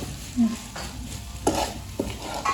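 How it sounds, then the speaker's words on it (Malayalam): Shredded chicken being stirred in a pan on a gas stove, with a soft sizzle and a few scraping spoon strokes close by, no talking. "ഷ്രെഡ് ചെയ്ത് ചിക്കനും കൂടി ഇട്ട് കൊടുക്കുക, എന്നിട്ട് അങ്ങോട്ട് ഇളക്കി കൊടുക്കുക"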